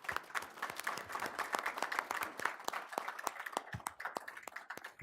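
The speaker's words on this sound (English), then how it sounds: "Let's give him a round of applause." Steady applause from an audience, many hands clapping densely and continuously at moderate loudness for several seconds.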